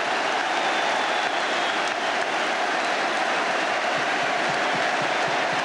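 A football crowd roars and applauds a Ray Hankin goal for Leeds United in the 1977-78 season, a dense, steady wall of cheering and clapping that stays loud throughout with no break.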